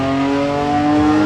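A 2,000-horsepower 7.0-litre quad-turbo V12 production car engine revs hard, a loud, close, rising multi-toned howl that climbs steadily and ends with a sharp burst, with no talking.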